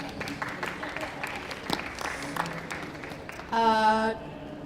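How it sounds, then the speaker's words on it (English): Scattered audience applause at a venture capital investing panel, moderate and fairly distant, giving way to a brief tonal voice-like sound at the close. "Yes, applause, please."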